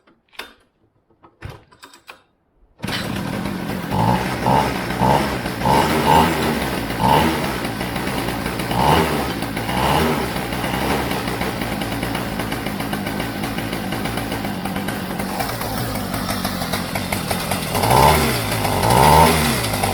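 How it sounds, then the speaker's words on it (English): A Dino go-kart engine, after a cord pull start, catches abruptly following a few quiet handling sounds and then runs continuously, a loud steady rattly drone with rhythmic pulsing and slight revving. "This is the fourth try with the cord, so it's we try again."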